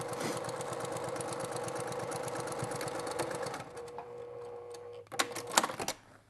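A sewing machine stitching down a line on a Mariners Compass quilt top, a fast even needle rattle running close for several seconds, then stopping, followed by a few handling clicks and knocks.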